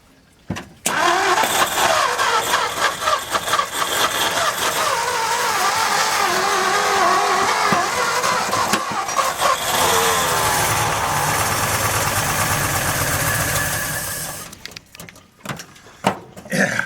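A 1955 Ford F250 truck engine with blow-by runs loud and steady nearby, rough and throbbing, then cuts off, leaving quiet with a few faint knocks.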